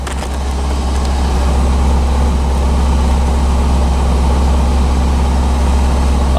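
A red 1985 C4 Corvette engine runs steadily at idle after being revived from a dead no-start, a loud continuous low rumble close by with no talk.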